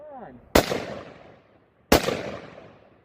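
Two sharp, loud rifle shots at an outdoor shooting range about a second and a half apart, each followed by a rolling echo that fades out.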